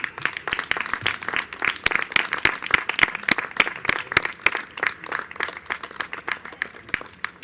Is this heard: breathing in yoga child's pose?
no